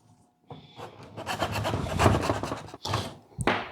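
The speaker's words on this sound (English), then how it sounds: "I'm filing against my finger to support it because skin grows back, plastic doesn't" A hand file rasping back and forth against the plastic edge of a car stereo dash opening in a Mustang, several close, quick scraping strokes in short bursts with brief pauses.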